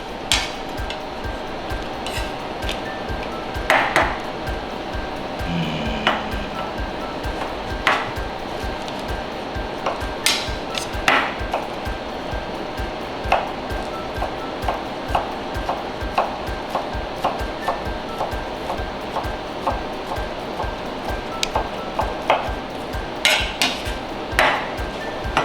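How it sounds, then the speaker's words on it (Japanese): A knife chops ham and other ingredients on a cutting board, with steady sharp taps repeating at an irregular rhythm over a low background hum. "その間に、材料を切っちゃいますね。"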